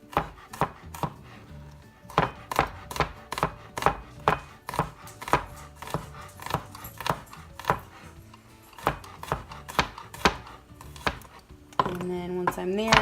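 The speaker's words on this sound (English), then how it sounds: "So you want to tuck them and then just run through the garlic." Knife chopping garlic on a cutting board, with a steady run of sharp, close taps that speed up in places. Near the end the chopping gives way to a brief rumbling scrape.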